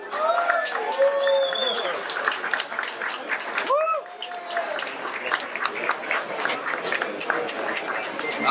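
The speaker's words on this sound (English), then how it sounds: "please, a big round of applause for Mr. Tim Teebow" A fundraiser crowd applauds Tim Tebow's introduction, a dense, loud wash of clapping with cheers and whoops rising over it and voices calling out through the ovation.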